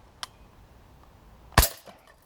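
An Umarex Beretta 92 Elite 2 airsoft pistol fires BBs: a faint tick early on, then one sharp, loud snap with a short clattering tail, in an otherwise quiet setting.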